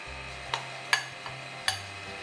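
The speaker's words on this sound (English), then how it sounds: "And I'll give that a stir" Brownie batter, wet ingredients with rice malt syrup folded into dry ones, gets stirred in a bowl: a handful of brief spoon scrapes and taps, sparse and close, over a low steady hum.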